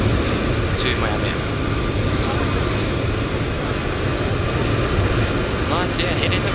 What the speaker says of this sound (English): where is that aircraft and why is it so loud?